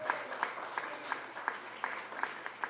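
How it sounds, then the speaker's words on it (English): Faint, distant audience applause at a 1 Million Cups Detroit Metro startup pitch event, heard as a steady patter of claps with evenly spaced sharper hits. "So first, a round of applause for Incubizo,"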